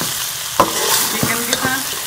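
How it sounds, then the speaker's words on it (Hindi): Tomatoes being stirred into chicken karahi in a pan: a few distinct scraping strokes of a spoon against the metal over a steady sizzle of frying, close and fairly loud, with no talking. "इसको भी हम मिक्स कर लेंगे इसके साथ"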